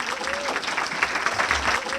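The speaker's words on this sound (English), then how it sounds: "If we can give them a round of applause." An audience claps for inductees at an honor ceremony in an arts and culture venue, with steady, dense applause throughout and some talk mixed in.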